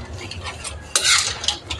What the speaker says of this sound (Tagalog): ilalagay ko na po ang hipon. Ayan. Haluin po natin.